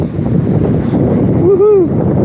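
Steady outdoor wind roars and buffets the microphone in a broad, continuous rush, with a brief tonal whoop rising over it partway through.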